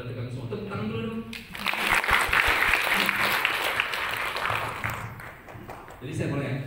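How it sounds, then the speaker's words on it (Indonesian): An audience at a digital literacy training session breaks into applause, a dense burst of clapping lasting several seconds, with a person talking briefly before and after it. "Tepuk tangan dulu dong."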